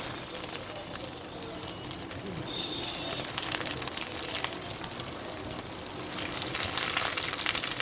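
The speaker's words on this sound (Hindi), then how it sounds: "चलिए आइए इसको फ्राई करते हैं।" Breadcrumb-coated chicken bread sticks frying in hot oil make a steady, soft crackling sizzle that swells a little toward the end, with faint stirring clinks and no talk.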